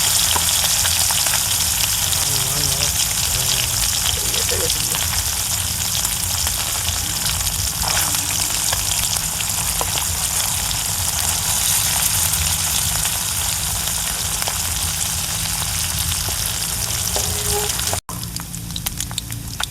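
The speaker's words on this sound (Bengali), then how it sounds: "আমাদের ডিমের ধরা যে মাছগুলো, সেগুলো এখন দিয়ে দিচ্ছি গরম তেলে।" Freshly caught fish from a village marsh fry in hot oil, producing a loud, dense, unbroken sizzle close up that lasts nearly twenty seconds before a brief break near the end.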